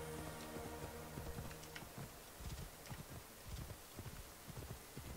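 Horse hooves clip-clop steadily on the ground while riding in Assassin's Creed Origins, a quick rhythmic gait, fairly faint and steady with no talking.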